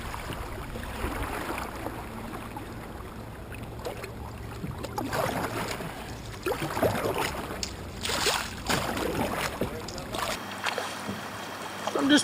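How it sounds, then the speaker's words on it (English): Kayak paddling on the Lynches River: soft rhythmic paddle strokes and water sloshing around the hull, steady and close, with faint outdoor ambience and occasional low voices. "I'm just paddling."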